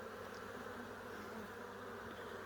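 Honeybees buzz in a dense, steady hum during a hive inspection, a close continuous drone of many workers with no talk.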